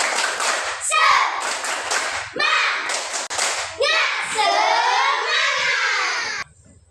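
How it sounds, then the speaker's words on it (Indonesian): A group claps in a quick rhythmic 'tepuk semangat' spirit clap, sharp bursts close by, giving way to children's voices chanting and shouting together. "Kita tepuk semangat terlebih dahulu ya"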